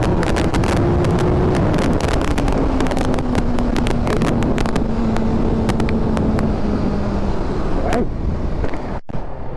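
BMW S1000RR sport motorcycle ridden with a loud, continuous engine roar under heavy wind rush, a steady droning tone sliding gradually lower as revs ease, ending in a brief gap.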